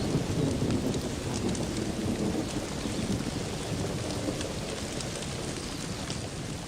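Heavy rain pours down in a steady, dense hiss, with a low rumble of thunder underneath and no voices.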